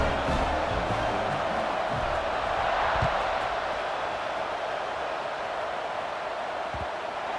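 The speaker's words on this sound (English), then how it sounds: "this crowd is buzzing after that last score" A large stadium crowd in a college football video game gives off a dense, steady wash of buzzing noise with no distinct cheers, loud and continuous throughout.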